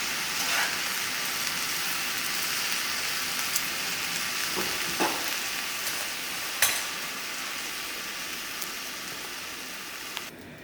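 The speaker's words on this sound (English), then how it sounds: "I had this garlic and the olive oil just to get a little sizzle on it" Garlic sizzling in olive oil in a hot pan gives a steady, close crackling hiss with scattered small pops and a few brief clicks of utensils, no voices.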